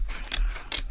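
Scissors snip through a paper calendar's outside cover, two quick crisp cuts close up with no talk.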